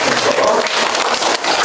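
Attendees at a farmers' cooperative meeting applaud together, a brief burst of steady, moderately loud clapping filling the room.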